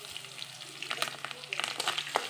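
Curry leaves hit hot oil in a pan, giving a soft crackling sizzle with scattered sharp pops throughout, fairly quiet and close.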